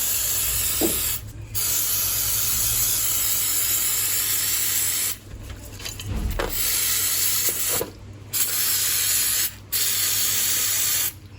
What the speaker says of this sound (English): I'm going to hit the parts with a multi-purpose cleaning solvent